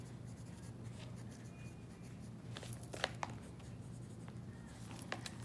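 Handwriting on a paper pop-out book about World War I, a soft continuous scratch of a pen or pencil close up with a few sharper taps, over a low steady hum and no talking.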